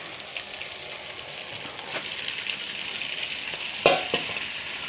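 Marinated duck meat frying with onions in a wok, an even hiss with a sharp clatter of a spatula near the end, close and moderate in level, no voices.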